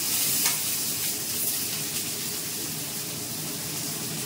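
Potatoes fry in a pan for an okra-and-potato curry, giving a soft, even sizzle with a faint scrape early on, close but fairly quiet, with no voices.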